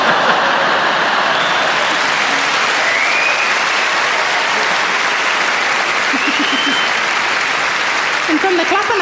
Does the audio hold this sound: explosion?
no